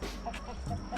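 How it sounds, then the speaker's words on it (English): Chickens cluck softly inside a coop built from repurposed fence wood and metal, with baby chicks housed there; faint, scattered clucks sit over a low background hum. "And there's my baby chicks in here"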